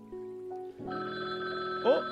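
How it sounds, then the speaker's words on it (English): In the online drawing game Gartic Phone, a soft telephone-style ringing starts after a moment and repeats steadily, signalling the timer running low. "Oh, the phone's ringing."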